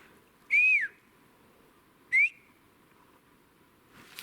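Birds give two clear, rising whistles from above, separated by a pause of over a second, each short and loud against a quiet outdoor background.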